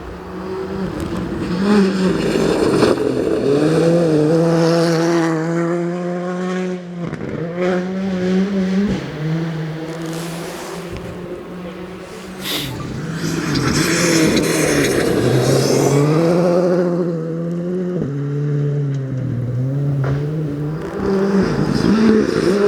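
A rally car's engine revs and sputters on a forest stage at the Riponian Stages 2025 event in Gale Rigg, dropping off and picking back up in an uneven, misfiring run, loud and close without any talk.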